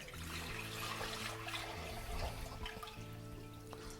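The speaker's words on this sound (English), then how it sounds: "into a bowl, I'm going to place in about 2 litres or half a gallon of water" About 2 litres of water pours and splashes steadily into a bowl, a continuous close gurgling stream with no voices.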